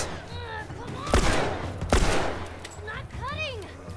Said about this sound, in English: I just gotta be shooting the infected